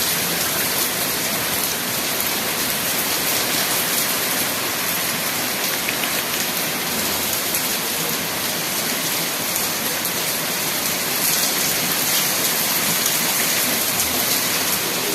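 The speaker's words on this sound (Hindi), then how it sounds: "बहुत तेज हो रही है बारिश।" Heavy, steady rain pours down continuously, a dense loud hiss of drops drumming on surfaces throughout with no voices.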